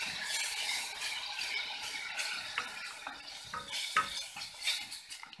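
Onion frying in a pan gives a bright, close sizzle, with a spoon repeatedly scraping and clinking against the pan through the few seconds.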